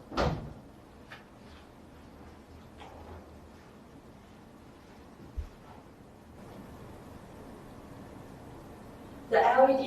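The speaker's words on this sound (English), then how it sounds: "Now we close the door." A cabinet door thuds shut at the start, followed by quiet room noise and a few small clicks, then another knock near the end; the cabinet holds a PIR motion sensor and UVC light.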